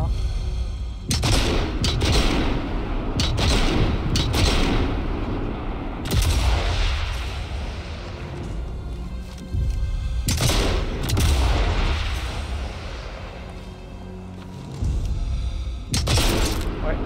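Artillery shells are fired in a sniper video game set around a château, with heavy booms and bursts of gunfire arriving in repeated loud volleys across a noisy battlefield.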